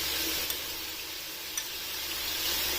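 Yogurt goes into a pot of frying pulao rice, and a steady hiss and sizzle fill the pot with a couple of faint ticks.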